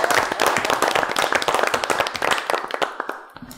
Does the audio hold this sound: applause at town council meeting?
yes